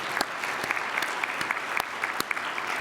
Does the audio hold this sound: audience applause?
yes